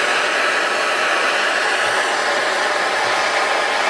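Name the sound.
torch flame soldering seam of copper moonshine still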